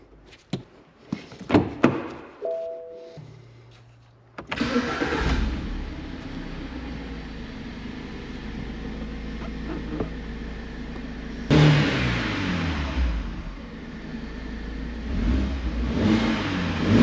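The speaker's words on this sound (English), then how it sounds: "Now it's time to start the engine." A 2008 BMW convertible that sat in a garage for two years cranks after a few clicks, catches and settles into a steady idle, then revs up noticeably louder near the end.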